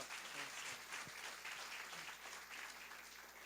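A congregation applauds during a family church service, a steady, fairly soft wash of many hands clapping throughout, with a few faint voices mixed in.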